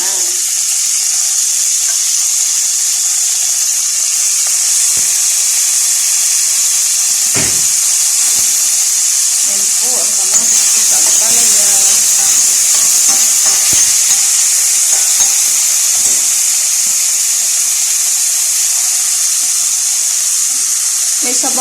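Tomatoes sizzling and frying in a hot pan, a steady loud hiss running throughout with occasional clinks and stirring scrapes, and someone speaking faintly now and then.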